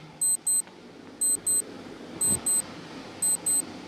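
Quiz countdown timer sounding four pairs of short, high electronic beeps, roughly one pair per second, over a faint low background hiss.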